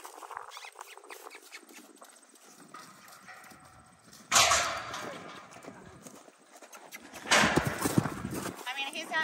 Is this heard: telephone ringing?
no